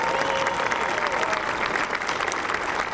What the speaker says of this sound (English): these are all people that are clapping that love their children